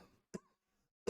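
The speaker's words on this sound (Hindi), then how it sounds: "खांसी आ रही है" A person coughs twice, short and dry, with a quiet pause between the two coughs during a chemistry lesson.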